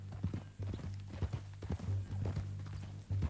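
Steady video game horse hooves clip-clop at a walking pace, close by, with a low rumbling tone in the background.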